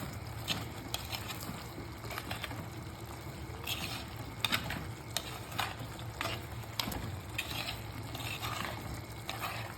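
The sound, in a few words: chicken fry masala being stirred in a frying pan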